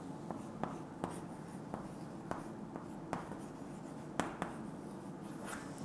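A pen writing on paper during a classroom lesson: quiet, repeated scratchy strokes and taps in an irregular rhythm, close up and alone.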